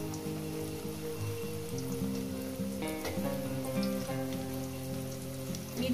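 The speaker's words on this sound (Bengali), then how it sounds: "আমি আলুগুলো ভেজে তুলে নেব। আলুগুলো যেন ভাজার মধ্যে যেন সিদ্ধ হয়ে যায়।" Potatoes frying in hot oil in a home kitchen, a steady close crackling sizzle with dense popping that holds even and continuous throughout, with no talking.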